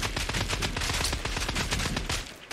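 Dense video game gunfire rattles in rapid, continuous automatic bursts, loud and close throughout before briefly easing at the end.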